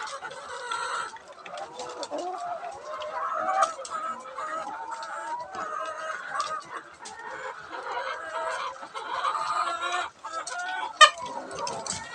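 Several chickens clucking and squawking together, busy and continuous at moderate distance, with one sharper squawk near the end.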